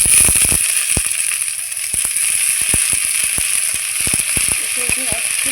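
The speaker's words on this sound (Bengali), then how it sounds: "এই আলু ভাজার মধ্যে আমি এখন সজনার ফুলগুলো ছেড়ে দিচ্ছি" Drumstick flowers dropped into frying potatoes in a pan, a continuous bright sizzle with scattered sharp crackles and pops throughout.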